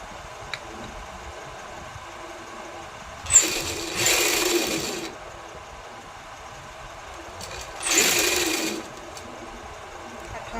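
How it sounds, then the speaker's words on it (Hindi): A sewing machine stitching the lining of a kameez, running in two short, loud whirring bursts separated by quiet pauses with faint ticks. "तो अब मैं इसमें सिलाई लगा लूँगी।"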